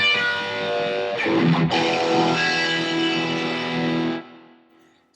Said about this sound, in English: if we combine the drive with the Horizon Drive, now we've got almost metal-like tones